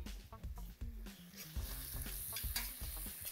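Fava beans (ful) stirred in a pan with a spoon, a steady scraping and soft sizzle with a few sharper knocks against the pan, close and continuous.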